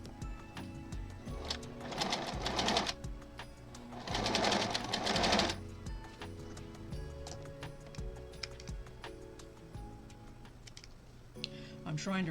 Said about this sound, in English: I'm trying to remember not to talk when the sewing machine's going.